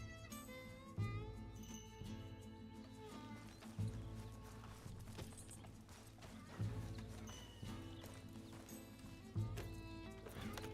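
Horse hooves clip-clop in a steady rhythm within a video game, with a louder thump or whinny-like burst returning every few seconds over continuous background music and game ambience.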